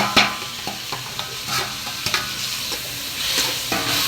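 Chopped tomatoes sauté in a pan for a homemade chicken gravy, sizzling softly while a spoon stirs and scrapes in repeated close knocks.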